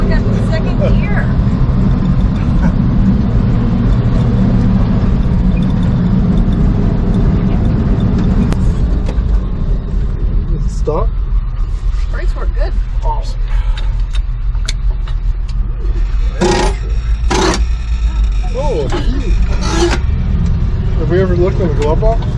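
A 1965 Chevy C10 engine pulls steadily in second gear, a loud continuous low rumble heard from inside the cab, with people talking over it and some rattles and knocks toward the end.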